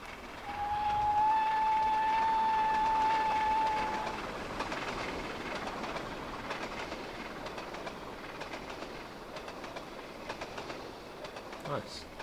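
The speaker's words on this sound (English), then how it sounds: "We can get another shot of the train going past." A train passing by in the Trainz railway game on the Scottish East Coast Main Line, opening with a long steady whistle tone over rumbling rail noise, then fading into quieter clickety-clack with a few faint bird calls.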